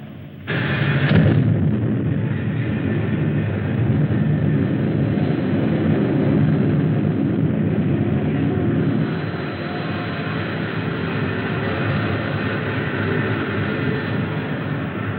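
An XV-5 rocket ship blasts off with a sudden loud burst and then a sustained, dense roaring rumble that continues steadily throughout.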